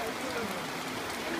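Steady rain at an outdoor first birthday party makes an even, broadband patter throughout, with voices faintly mixed in beneath it.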